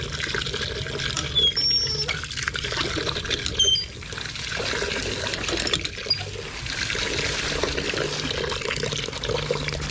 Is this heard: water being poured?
yes